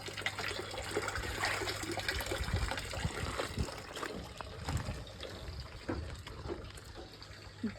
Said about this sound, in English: Just dribble it over the seedlings.